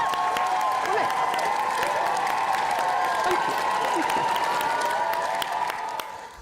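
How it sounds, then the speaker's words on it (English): A studio audience gives a round of applause on a live Friday night show, a steady wash of clapping over a faint tonal bed that holds for several seconds and then tails off softly at the end. "Round of applause for that mini masterclass on the small guillotine there."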